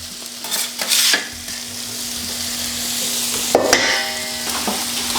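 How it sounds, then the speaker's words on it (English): Sausage sizzles steadily in a hot pan while a utensil stirs and scrapes it, with a few clattering scrapes standing out over the constant frying hiss; no talking. "We'll let this sausage continue to brown a little bit."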